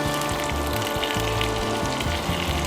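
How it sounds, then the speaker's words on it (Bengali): Pulao rice tipped into a pan of hot oil with cashews, raisins and bay leaf, giving a steady close crackling sizzle that runs throughout without pause. "এবারে পোলাওয়ের সেই চালটা দিয়ে দেব।"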